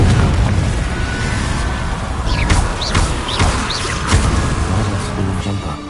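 Several sharp bursts from the Confringo blasting spell in the Hogwarts Legacy video game pop out of a loud, constant, rumbling background of battle noise.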